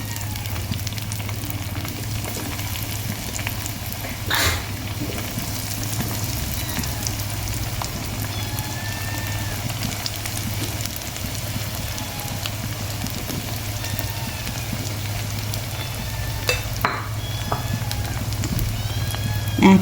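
Sausages fry in hot oil over a very low flame, a steady soft sizzle and crackle running throughout with a few brief pops, fairly close and even in level.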